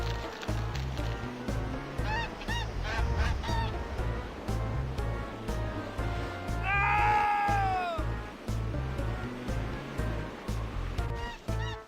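A golden goose in American McGee's Grimm, Jack and the Beanstalk chapter, lets out a loud swooping honk amid game music with a steady pulsing rhythm and wind.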